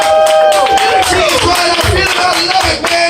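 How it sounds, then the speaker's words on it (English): A crowd at a poetry slam claps for a poet, with scattered loud claps and cheering mixed with voices and tonal noise in a lively, busy room. "Always clap for the poet."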